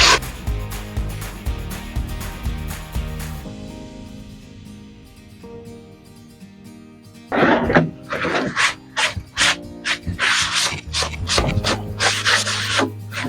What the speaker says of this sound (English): We'll just have to sand this back first and then go on staining.